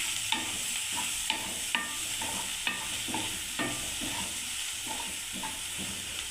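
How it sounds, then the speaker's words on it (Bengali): Sliced onions fry in a pan for piyaji posto, giving a continuous sizzle broken by regular scraping knocks of a spatula stirring about once a second, close by and without speech. "এখানে আমার পেঁয়াজটা ভাজা হচ্ছে বন্ধুরা"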